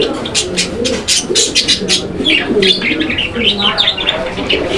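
Fancy pigeons coo softly and repeatedly at close range, with brighter bird chirps scattered over the low, throaty calls.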